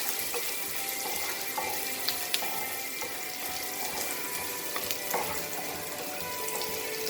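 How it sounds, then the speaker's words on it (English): Chopped onions sizzle as they fry in a pan for Goan-style fish fried rice, a steady crackling hiss with scattered pops and faint clinks, close and continuous, no voices. "Then we'll add onion to this, chopped onions"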